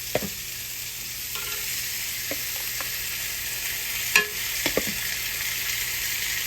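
A garnish sizzles on a grill as it is lightly marked, making a constant, even hiss with a few faint clicks and knocks, one slightly louder, close by and with no talk.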